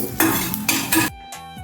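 Coriander, cumin and fenugreek seeds roasting in a pan for sweet potato chutney, with loud bursts of stirring and scraping metal against the pan, crackling between strokes, no talking.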